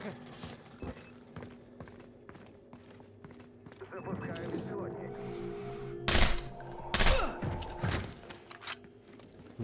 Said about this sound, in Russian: Вот, непрерывная стрельба.